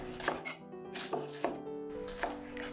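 A knife chops repeatedly through crisp Italian cabbage on a board, sharp uneven strikes about every half second, close and clear with no talking.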